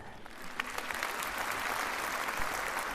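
A concert hall audience at a children's song performance breaks into dense, steady applause that stays loud and close throughout, with faint crowd murmur underneath.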